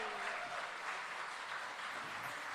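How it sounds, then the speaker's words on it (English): An audience at an awards ceremony gives steady applause, a brief unbroken wash of clapping at moderate distance with no voices over it. "give a round of applause"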